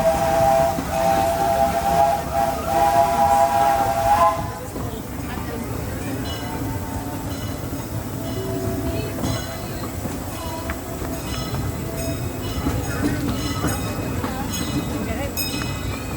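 The Disneyland Railroad steam train runs through Disneyland Park in the rain, a steady rumble of wheels and hiss under a steam whistle that sounds for the first few seconds, with a narrator speaking over the ride.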